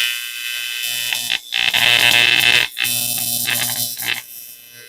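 TIG welder arcing on sheet metal while fabricating a throttle body adapter from scrap, a close steady electrical buzz and hum with crackling hiss, cutting out briefly twice between welds.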